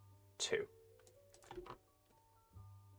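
A few quick keystrokes on a computer keyboard, a short burst of clicks followed by a couple of softer taps, close and quiet.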